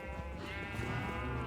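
Sheep bleat in a farming video game, a steady layered chorus of harmonic calls that carries on without pause, near and fairly loud, with no talk over it.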